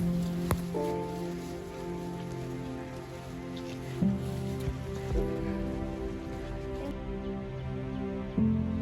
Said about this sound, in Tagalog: Tinuloy ko pa rin yung hike na to, no? Kahit umuulan.